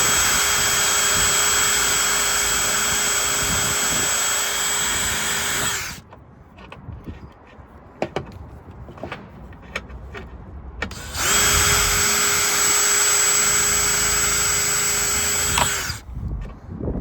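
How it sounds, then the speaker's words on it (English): A power drill whines loudly at high speed for several seconds, drilling off a steering cable on a Carolina Skiff JV17 boat, stops, clanks and scrapes follow, then a second long burst of drilling. "I'm just gonna try and drill it off."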